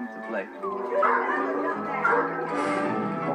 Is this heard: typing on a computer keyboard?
no